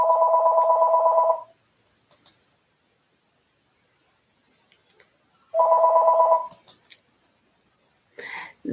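A telephone rings in two separate bursts of trilling rings, loud and close, with quiet gaps and a few clicks between them and no talking over them.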